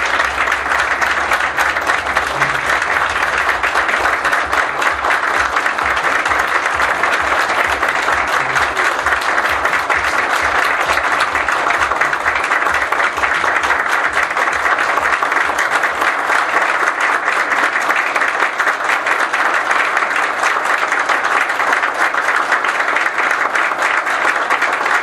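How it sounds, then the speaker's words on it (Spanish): Audience at a party presentation event gives a long, loud, sustained round of dense applause, steady and full throughout with a low rumble of crowd noise beneath it. "Vamos a pedir un fuertísimo aplauso por Carlos McFarland Caluso."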